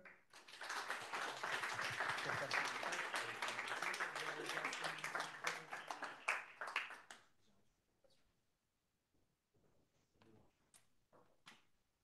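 Audience applause at a tech design meet-up, a dense burst of clapping lasting about seven seconds before it dies away into a few scattered claps and quiet room noise.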